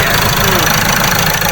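A Ford Ranger 2.2 engine idles with a steady, loud rumbling drone throughout, slightly knocking, and no clear talk over it.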